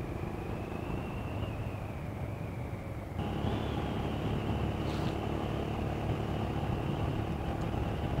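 A Royal Enfield Scram 411 motorcycle, well run in, hums steadily while being ridden, its engine drone and wind rush continuous and fairly loud, stepping up slightly in level partway through.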